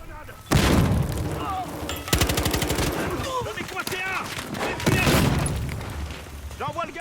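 Grenade blasts and bursts of gunfire from the Battlefield Hardline multiplayer game, with loud booms and rapid shot volleys spread across the scene while players talk over the action.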